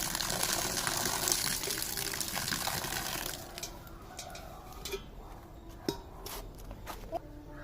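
Water drains from a home fish tank, a loud steady rushing gush that cuts off partway through and gives way to quieter drips and small splashes.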